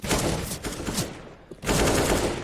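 Rapid gunfire bursts from a Counter-Strike: Global Offensive match, a quarter-final between Phoenix and Brute ending in a headshot, loud and dense, broken by a short lull before a second burst.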